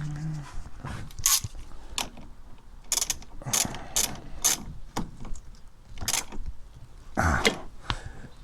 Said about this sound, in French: Un petit coup de clé, là c'est du 10 aussi.